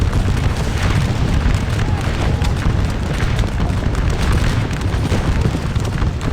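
Cannon and musket volleys in the Napoleonic battle game Scourge of War Waterloo, with French Dragons de la Garde cavalry under fire: a dense, continuous roar of booms and crackling shots throughout, with a voice talking over it.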